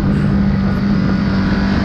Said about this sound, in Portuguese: eu achei que eu não ia curtir o barulho da Ducati